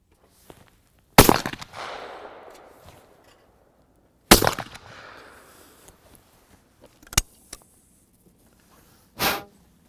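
Shotgun shots at clay targets on a shooting range: four sharp, loud blasts at uneven intervals, each followed by a fading echo, with near silence between them.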